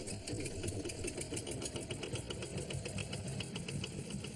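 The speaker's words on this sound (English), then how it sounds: "all fed by the big old compressor in the back there, which we're just about to fire up" A big old diving air compressor that feeds breathing air to a mask, running with a steady, rapid mechanical chugging at moderate distance, continuous and unbroken by talk.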